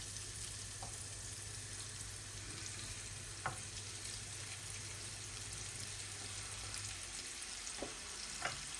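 Steady quiet sizzle of ingredients frying in a pan for duck egg bhuna, an even crackling hiss throughout with a few faint clicks of utensils.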